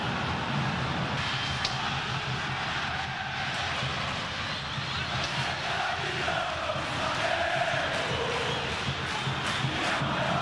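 Flamengo supporters singing and celebrating in the stands at Mineirão stadium, a dense, steady roar of massed voices and chanting that fills the whole stretch without pause.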